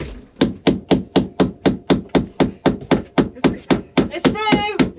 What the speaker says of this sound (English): I could do some damage with the other hammer though.